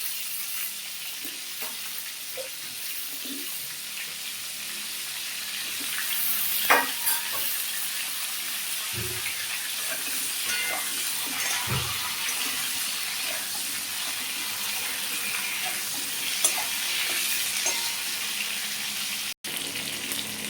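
Cauliflower and potatoes frying in a pan, a soft continuous sizzle broken by occasional scrapes and knocks of stirring, close and fairly quiet without talk.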